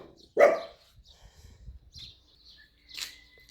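A dog gives one loud, close bark, with a few faint birds chirping during the quiet that follows and a weaker second bark or yelp near the end.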